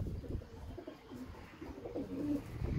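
Soft, low cooing of pigeons murmuring together nearby in a coop, a steady overlapping burble with a few brief calls rising toward the end.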